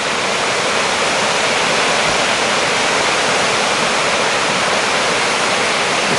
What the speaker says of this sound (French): Et voilà les cascades du Coulon.